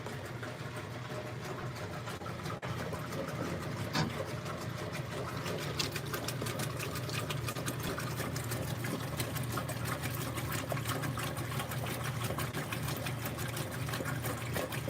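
Whirlpool direct drive top-loading washing machine washing a load of colors, a continuous churning, sloshing drone of water and agitator, steady and moderately loud throughout with occasional clicks.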